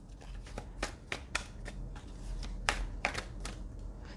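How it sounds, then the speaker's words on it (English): Tarot cards are shuffled close by, giving a run of crisp riffling snaps and soft slaps at an uneven pace, with no voice over them. "All right, we're just going to do a couple more shuffles."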